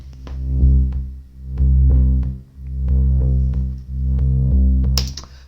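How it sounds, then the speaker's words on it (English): A soloed synth bass track plays alone in a music production session. Deep sustained notes pulse in long phrases with short gaps between them, loud and close, ending on a brief bright click. "it's a synth, but kind of sounds like the bass of this track"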